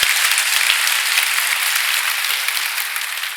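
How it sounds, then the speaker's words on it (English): An audience at a lecture series applauds for Haley, a dense, even wash of clapping that holds steady and tapers slightly toward the end, with no voices over it. "give Haley a round of applause"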